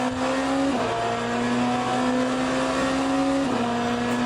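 Race car tyres locking under very light braking in the Le Mans Ultimate sim, a steady engine drone with a sustained tonal squeal that dips twice, loud and continuous with no talk.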